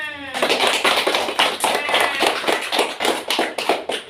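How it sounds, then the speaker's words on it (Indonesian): A class of schoolchildren claps together in a rhythmic burst of sharp, repeated hand claps, loud and close, after a short tonal sound at the start. "Oke, tepuk tangan semua."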